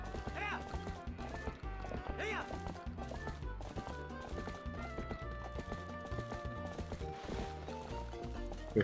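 Horse galloping in the video game The Legend of Zelda: Twilight Princess HD, with rhythmic clip-clop hoofbeats over game music and a brief whinny, playing continuously throughout.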